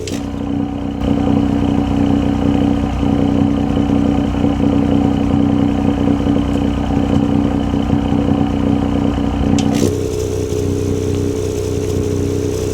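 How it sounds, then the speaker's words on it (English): A Fiesta ST Mk8 260bhp car's exhaust drones loudly and steadily with the valve open, a deep throaty note that drops abruptly to a quieter, smoother tone near the end as the valve closes. "if I go and open the valve now, listen to the exhaust tone change."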